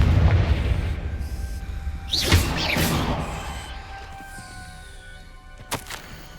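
A Confringo fire spell in the Hogwarts Legacy video game bursts with a booming explosion, followed by rumbling debris, a whooshing swell and a sharp crack near the end.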